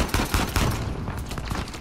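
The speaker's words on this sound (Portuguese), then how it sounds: "De onde que tá vindo esses tiros?" Rapid bursts of gunfire in Uncharted 4 crackle throughout, dense overlapping shots with no voices, loud and close.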